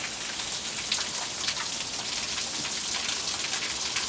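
Heavy rain pours steadily off a roof during a San Diego downpour, a dense, even hiss of drops and runoff close by with no pauses or voices.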